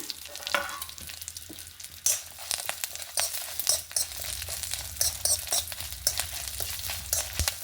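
Mustard seeds, chana dal, urad dal, dried and green chillies, cumin and curry leaves sizzle in hot oil for a tempering, a dense steady crackle with sharp pops and stirring clinks throughout.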